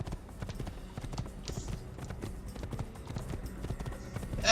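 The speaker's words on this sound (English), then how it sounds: "Onto a horse, and off we ride" A horse gallops in Assassin's Creed, its hooves drumming in a steady, close clip-clop rhythm throughout, with faint game ambience around it and a brief sharp noise near the end.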